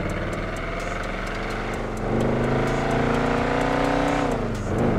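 A Crown Victoria car engine in the video game GTA 5 drones steadily, then revs up with its pitch climbing and holding high, loud and close, with no talking.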